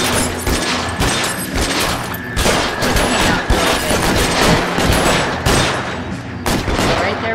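Loud, dense gunfire from a street-crime shootout in the video game L.A. Noire, with rapid overlapping shots and bursts hammering almost without a break.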